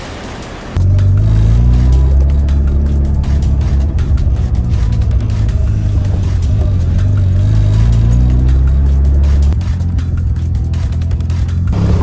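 A Mazda RX-7 on a road trip pulls up, its engine starting abruptly and holding a loud, close, steady rumbling rev with rising and falling tones for several seconds.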